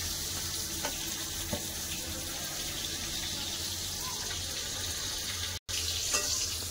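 Pointed gourd (potol) frying in an uncovered pan, a loud, dense, even hiss of oil sizzling throughout with a brief break near the end.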